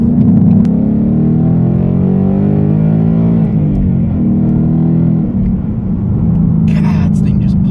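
A 2018 Ford Mustang, naturally aspirated, pulling hard under acceleration, its engine a loud, steady rumbling drone heard from inside the car with rising and falling tone.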